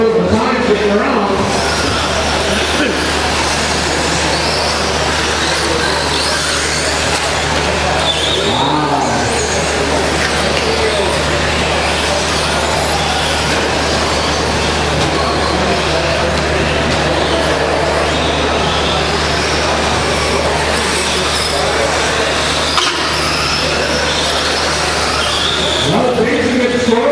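Radio-controlled stock trucks racing around an indoor RC raceway, their small electric motors whining in a continuous buzzing drone, with a race announcer talking loudly over the top throughout.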